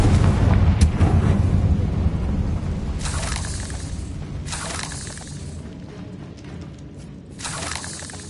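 Confringo fire spell blasts in Hogwarts Legacy, several loud booming explosions with crackling, shattering bursts arriving in waves over a rumbling game soundscape, no talking.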